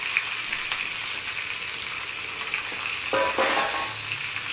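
Green and dried chillies, garlic and curry leaves sizzle and crackle steadily in hot oil in a pan, a continuous close frying hiss with a few sharper pops partway through.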